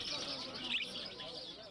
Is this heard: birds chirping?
yes